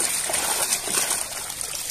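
Water runs and trickles steadily while muddy toy vehicles such as a toy train are washed, a continuous close splashing stream with no talk.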